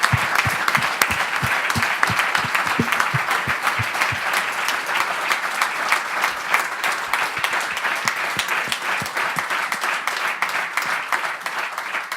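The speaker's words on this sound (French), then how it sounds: "Un grand applaudissement pour vous tous." Sustained audience applause at a debate evening, a dense steady wash of many hands clapping for about twelve seconds, with a few louder individual claps near the start and the sound tapering slightly toward the end.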